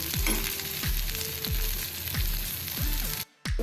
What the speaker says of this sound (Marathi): नाहीतर मग भेंडी आपली सॉफ्ट होऊ शकते अशीच आपण मधून मधून हलवत राहायचं आहे आणि फ्राय करून घ्यायची आहे